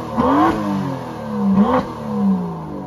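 The 5.2-litre twin-turbo V12 petrol engine of a 2017 Aston Martin DB11 revs hard twice in quick succession, each blip climbing sharply then falling back, loud and close with a throaty roar.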